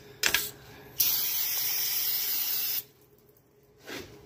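Brake cleaner sprayed from an aerosol can onto the oil pan of a 1998–2004 Chevy Blazer with the 4.3L engine, heard as a short spritz followed by one loud, steady hiss of nearly two seconds, then a faint trailing puff.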